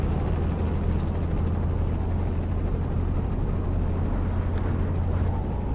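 Helicopter flying overhead in Euro Truck Simulator 2, a steady loud rotor drone with deep thumping, continuous and without talk.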